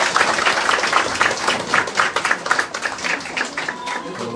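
An audience applauds at a community event for free mehndi and tailoring classes in Savarkar Nagar: a dense, steady patter of many hands clapping, fairly close, with a few murmured voices mixed in.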